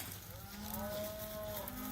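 Cattle bawling for their lost calves on a winter stockpile pasture, a long drawn-out moo rising and sustained through the middle, with other cows lowing faintly in the background.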